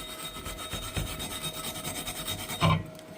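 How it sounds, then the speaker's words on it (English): Flux is scrubbed off a fresh flux core weld with steady rasping, brushing strokes, close and continuous, ending in one slightly harder scrape, with no voices. "keep your gloves on and scrub all the flux off"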